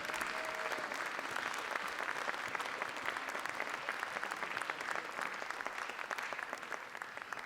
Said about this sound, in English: Let's give them a big round of applause, y'all.